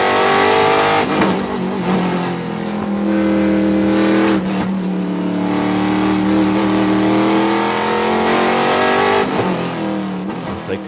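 A Trans Am race car at Sonoma, heard on board, holds a loud continuous engine roar with rising and falling revs and gear-change dips as it drives through corners.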